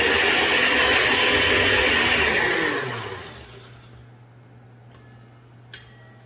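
An electric grinder chops dried garden plants into small pieces for homemade soap bars. A loud, steady whirring roar runs for about three seconds, then winds down into a low hum, with a couple of faint ticks afterward.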